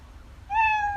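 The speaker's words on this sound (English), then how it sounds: "when the cat hit the wall, it will sound meow" A single cartoon-style cat meow sound effect from a game, triggered when the cat hits a wall; a clear, rising harmonic meow starts halfway in and holds steadily to the end over a low background hum.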